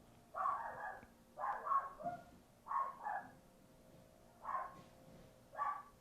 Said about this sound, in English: Oh no, the dog's barking.